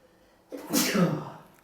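A single sharp sneeze after a brief quiet breath-in, close and loud, trailing off quickly.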